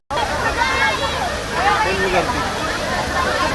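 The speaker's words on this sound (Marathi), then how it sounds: "ओसांडून धबधबा वाहत आहे" A waterfall at Ramling temple in Yedshi pours steadily with a broad, sloshing rush, while the babble of a large crowd of visitors standing beneath it blends into the continuous roar.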